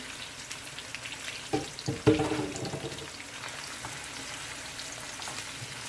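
Carrot, onion, pepper and pimento seed sauté for Jamaican-style escovitch fried pork chops, giving a steady sizzle broken by a few close scraping and clattering stirs midway, with no talking.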